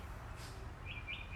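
Birds chirp outdoors in short high tweets, faint and a little distant over a steady low background rumble.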